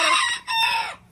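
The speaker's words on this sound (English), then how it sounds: "We got all these chickens in here, but you probably can't even see them." Chickens in a farm pen, with a rooster giving a short, loud crow that breaks briefly midway, close by with no talk.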